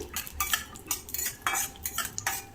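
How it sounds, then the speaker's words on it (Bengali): A handful of peanuts frying in a little oil on low flame while a spatula stirs them, quiet rhythmic scraping strokes against the pan, about three per second, with no voices. "এক মুঠো চিনি বাদাম এক থেকে দেড় মিনিট সময় নিয়ে লো ফ্লেমে একটু ভেজে নিতে হবে"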